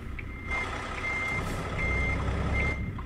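Steady electronic reversing beeps repeat over a continuous low engine rumble, with a brief hiss of air midway, from a tractor-trailer truck in American Truck Simulator.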